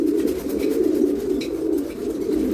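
Well-fed domestic pigeons coo in a continuous, soft, rolling murmur, close and steady, with no voices over them.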